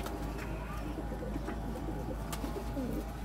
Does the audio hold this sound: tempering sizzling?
no